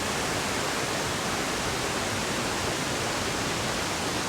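Water pours down a waterfall in Nainital as a dense, unbroken roar of rushing spray, loud and close, steady from start to finish with no voices or other sounds.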